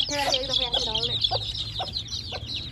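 Chickens and roosters in an open yard give several short clucks, close and moderately loud, with a few high chirps and bird calls mixed in.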